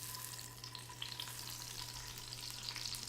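Citrus rind sizzling in hot oil at the bottom of a soup pot, a soft steady crackle with faint pops over a low hum, quiet and close, with no talking.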